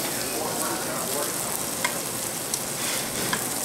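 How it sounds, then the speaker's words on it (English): Tuna seasoned with Hawaiian sea salt searing in a very hot pan gives a dense, steady sizzle close by, with a few brief clicks and faint talk in the background. "I'm just going to put it in the hot pan on one side. I'm going to sear it."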